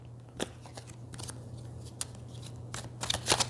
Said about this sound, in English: on the bottom of the deck and then I freaking shuffled